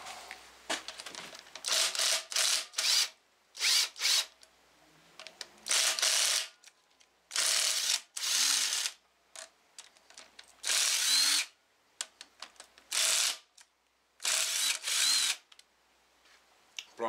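Ratchet loosening 8mm bearing cap bolts on a 2006 Hummer H3 3.5 five-cylinder engine, repeated bursts of fast close clicking separated by short pauses, with occasional light clanks.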